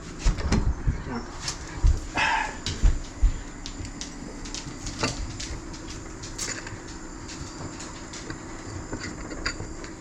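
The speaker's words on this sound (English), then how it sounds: "the dog wants to come in now" A dog barks and whimpers close by in short bursts, mixed with knocks and clatter that fade into quieter rustling.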